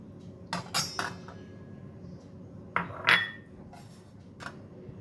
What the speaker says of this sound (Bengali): তার জন্য এখানে একটা পাত্র নিয়ে নিয়েছি, আর এখানে আছে বনলেস চিকেন। চিকেনটা আমি দিয়ে দিচ্ছি।